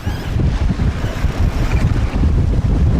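A sailboat on a beam reach in open wind, with steady gusting wind buffeting the microphone and the rush of water against the hull, continuous and fairly loud with no voices.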